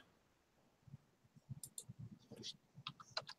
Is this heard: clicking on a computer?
yes